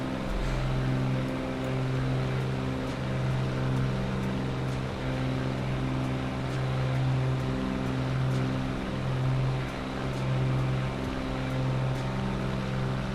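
Cessna 414AW Chancellor twin piston engines in Microsoft Flight Simulator 2020 hold a loud, steady droning hum with layered low harmonic tones, constant and close, with no talking.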